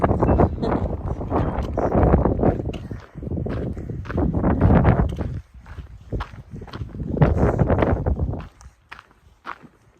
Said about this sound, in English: the wind is really coming through this spot